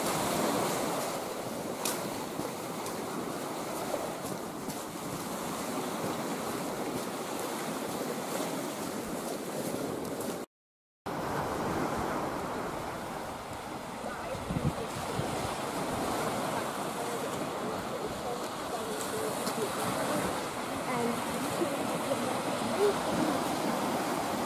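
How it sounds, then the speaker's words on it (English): Steady surf crashes and washes onto a sandy shore near Holywood in a broad, continuous roar, with wind buffeting the microphone and no voices. "Just love the sound of breakers hitting the sand."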